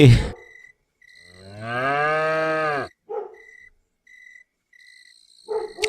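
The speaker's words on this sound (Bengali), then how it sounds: "আরে জম্মু, তুমি গরু নিয়ে হঠাৎ গই যাইতেছ?" A cow gives one long, loud, drawn-out moo, close by, with faint insects chirping steadily in the quiet around it.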